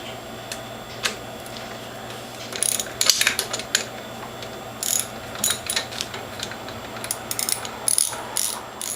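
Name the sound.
socket wrench ratcheting while removing reservoir bolt on juicer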